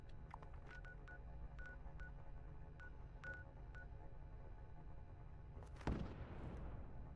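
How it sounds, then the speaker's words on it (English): A single explosion bursts out in the Fallout 76 video game, a sudden loud blast that trails off into rumble after a run of short, evenly spaced electronic beeps over a steady background hum. "See, hear that explosion?"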